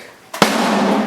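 A single sharp wooden stick strike on a drum, a crisp crack followed by a ringing, sustained drum resonance that fades slowly.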